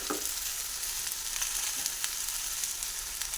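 Chola kochu taro frying with salt in a pan makes a close, steady hiss and crackle, with a faint stir at the start and no voices.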